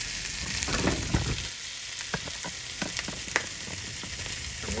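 Leftover corned beef sizzling in a pan, a steady loud hiss of frying fat close by with small pops and a few scraping touches, no voices.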